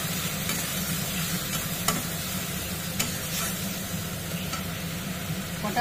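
Ground garam masala, turmeric and chilli powder sizzle in a frying pan while being stirred, a continuous close hiss with a few soft scraping knocks of the spoon.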